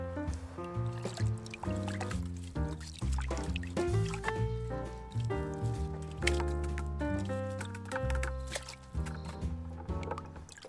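Pot scrubby filter media from a turtle tank canister filter rinsed under running water, with sloshing, trickling and splashing that comes and goes in uneven surges, close by.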